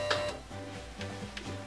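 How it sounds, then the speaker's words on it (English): An electric mixer creams butter and sugar for a fruit dessert pizza, whirring quietly in short, regular pulses with light rattling ticks as the beaters turn in the bowl, heard up close with no talking. "now I'm gonna mix the butter and the sugar together till they're creamy"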